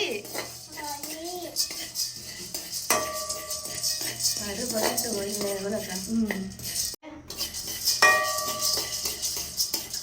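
Food fries in a pan while a metal utensil clatters and scrapes against it again and again, close and busy, with voices talking over the cooking.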